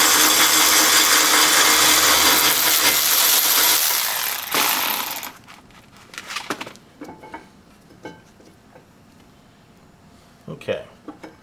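Ratcheting wrench work on a bolt of a front brake caliper bracket on a 2019 Honda Pilot, with a loud broadband burst of tool and metal noise, then a series of sharper clicks and clunks as the wrench turns.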